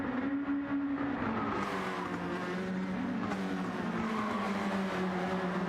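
Mazda race cars in a sim racing video game approach a hairpin, their engines forming a continuous droning roar whose pitch sags as they slow, with several cars overlapping in the mix.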